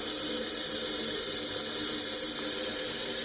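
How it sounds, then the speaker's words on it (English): Water pours steadily into the gallon reservoir of a Holmes warm mist humidifier. The stream gives an even, close rushing hiss with no talking. "I'm going to fill it up."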